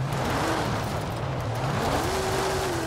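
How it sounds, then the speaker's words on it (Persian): A car engine in the racing game Forza Horizon 5 drones steadily and loudly throughout, its pitch rising smoothly as the car speeds up toward the end. "صدا ماشینم زیاده"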